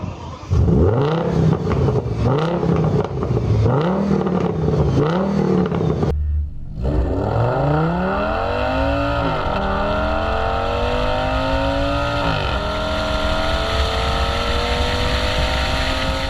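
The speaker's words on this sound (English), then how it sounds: "You know what comes with a Lamborghini engine? A Lamborghini sound." A Lamborghini V10 engine revs repeatedly in sharp bursts, cuts out briefly, then roars back and climbs in long rising sweeps, loud and continuous.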